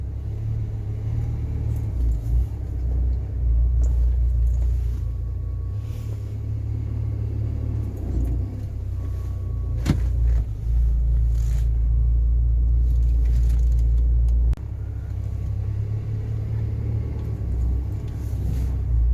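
Inside a Rover 45 car driving with a cold engine that is just warming up. A continuous low engine rumble and road drone hold steady for the whole stretch, with small swells and faint rattles and no voices.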